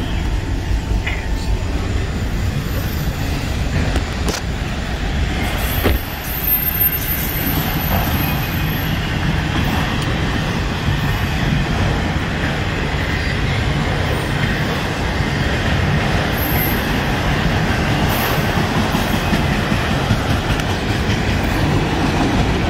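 A CSX freight train heading northbound rumbles past nearby, a steady, loud rolling roar of wheels and railcars that runs the whole length, with faint clickety-clack and a brief high squeal on top.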